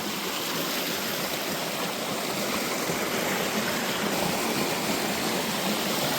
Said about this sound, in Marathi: तर आलोय नदीत